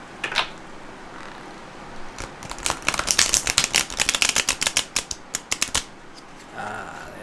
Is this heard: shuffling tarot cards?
yes